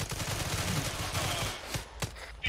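Rapid gunfire bursts from a space gunner position in a video game, a dense, loud, rattling fusillade that thins into a few sharp isolated shots near the end, with no talking.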